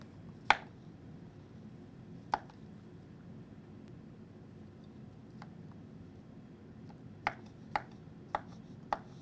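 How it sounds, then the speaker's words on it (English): A knife slices mushrooms on a board for mini pizza topping, with a handful of sharp, isolated taps, one early and a quick cluster near the end, over quiet room tone. "So for the mushrooms, you just want to slice them up."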